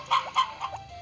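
Chickens in the farming game Harvest Moon Back to Nature cluck three times in quick succession, crisp and close, with no voices over them.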